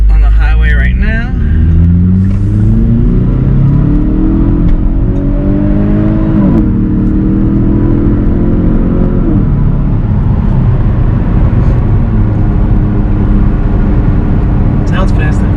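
A 2021 Kia Stinger with a Magnaflow cat-back exhaust pulls onto the highway, its engine drone rising through the gears, with loud, close cabin rumble and a voice talking over it.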